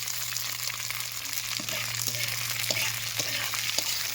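Capsicum frying in a blackened iron wok, a steady loud sizzle throughout with occasional scraping stirs, no talking.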